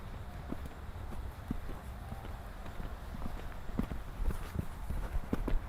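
A horse trots and clip-clops in a riding lesson, its hoofbeats soft and rhythmic at a moderate distance under a low background hum, with an instructor's voice occasionally heard.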